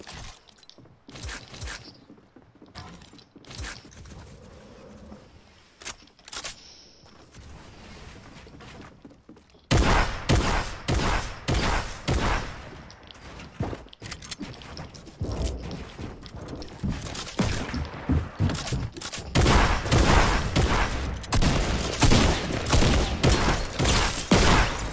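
Fortnite SMG fire comes in rapid, punchy bursts, sparse and quieter for the first ten seconds, then turning loud, dense and almost continuous through the rest of the round with short gaps between volleys.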